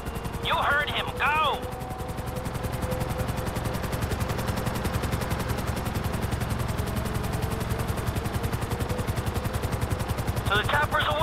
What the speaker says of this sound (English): I'm bringing the chopper back around